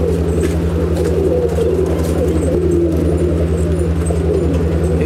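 Andhra pigeons coo in a loft, a soft steady murmur of overlapping calls over a constant low mechanical hum, with no voices.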